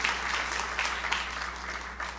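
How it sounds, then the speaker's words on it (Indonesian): A church congregation claps steadily and fairly loudly during a sermon, a continuous wash of applause without any talking. "Tepuk tangan yang meriah untuk kemuliaan Tuhan."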